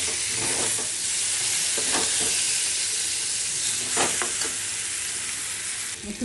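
Brinjal pieces hitting hot spiced oil with Kashmiri chilli in a pan for a Bengali curry, giving a loud, steady sizzle with occasional stirring scrapes and no voices.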